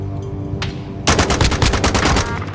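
A video game shootout in Call of Duty Resurgence: after a quieter moment, a loud sharp shot kicks off a rapid string of close gunfire bursts that runs to the end.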